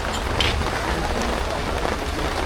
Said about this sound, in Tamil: ஃபுல்லு மழை பெய்யுது.